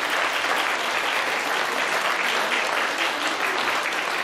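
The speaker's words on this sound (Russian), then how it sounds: "ваши аплодисменты." A crowd of parents and guests claps for primary-school graduates of Gymnasium 1591, class of 2012, in sustained, even applause that stays loud and full throughout without any speech.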